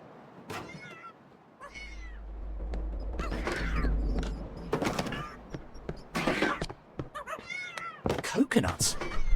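Cat meows in the Tintin Reporter: Cigars of the Pharaoh video game, several short mewing calls mixed with game sound effects, thumps and a low rumble, fairly close and moderately loud.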